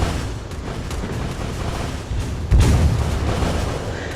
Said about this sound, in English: Now we have our cannon, we'll launch it this time where she shoots it.